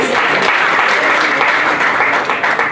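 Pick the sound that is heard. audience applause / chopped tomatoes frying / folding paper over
audience applause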